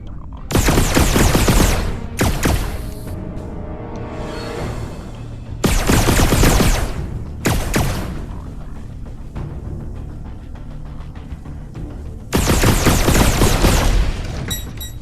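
Gunfire in the video game Red Matter 2 rattles out in loud, dense bursts of rapid shots, several separate volleys breaking through a quieter stretch of game ambience.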